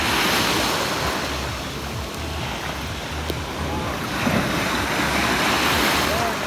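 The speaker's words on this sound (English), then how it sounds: "More waves too." Ocean waves wash onto a beach on the Riviera Maya coast in a steady, loud surf roar with gusty wind noise, swelling and fading gently throughout.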